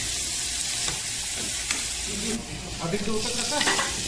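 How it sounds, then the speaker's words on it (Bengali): Onions and green chillies fry in oil in a wok, giving a steady close sizzle with scraping stirring strokes that pick up toward the end, no talk. "কড়াতে তেল দিয়ে তারপর পেঁয়াজ, কাঁচামরিচ এগুলো হালকা করে লাল লাল করে ফেলবো।"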